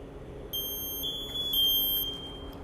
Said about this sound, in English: To check for the medium air tone, which the lights will go from green to yellow.